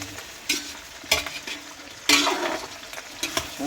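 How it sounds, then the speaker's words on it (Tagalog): Pork fat frying for chicharon in a pan over a wood fire, stirred in bursts of scraping and bubbling over a steady soft sizzle, several distinct stirs close up. "kailangan haluin natin ito para lumabas yung mantika"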